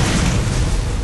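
A rocket-jump blast in the video game Borderlands, a single loud, dense boom that rumbles heavily through the whole moment at close range with no one speaking over it.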